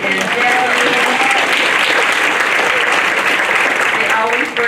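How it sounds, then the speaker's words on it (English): Audience applause at a legislative update meeting, a steady, dense round of clapping filling the room for nearly five seconds before tapering at the very end. "If we can have a big round of applause for Mary and Jackie."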